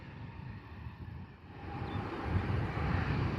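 An EasyJet Airbus A320 departs Bristol Airport for Nice, heard as a faint, distant low rumble that slowly swells, with light wind noise.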